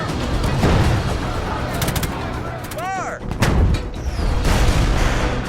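Sherman tank cannons and gunfire in a war film battle against German forces, with heavy booms and rapid shots layered into a loud, continuous combat din, plus a brief whistling streak midway.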